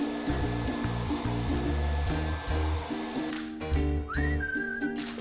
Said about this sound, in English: Blow Clifford dry.